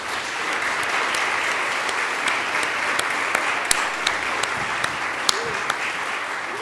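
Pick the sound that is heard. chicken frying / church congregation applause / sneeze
church congregation applause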